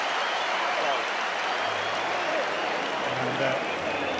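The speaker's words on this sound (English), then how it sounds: "this applause for him." Stadium crowd applauding at a rugby Premiership final between Leicester Tigers and Saracens, a dense, steady wash of clapping from a large distant crowd filling the whole stretch, with a commentator's voice faintly underneath.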